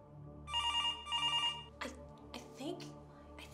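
A telephone bell rings in two long bursts, clear and fairly close, followed by people talking.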